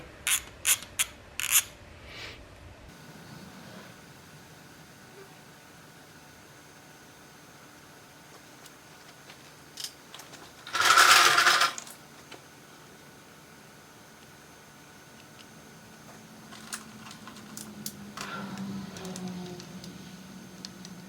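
Transmission adapter bolts on a Nissan 300ZX (Z32) LS swap tightened with a ratchet: quick clicking bursts at the start, a loud sustained rasp midway, then fainter mechanical rubbing, close up.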